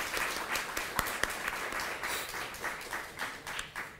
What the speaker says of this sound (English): So another round of applause for those folks.